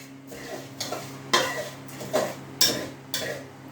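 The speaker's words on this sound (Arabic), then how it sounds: "انا اقلب كويس جدا" A spoon stirs a melting mixture in a metal pot, scraping in a steady rhythm of about five strokes with sharp clinks against the side, close and clear, with no talking.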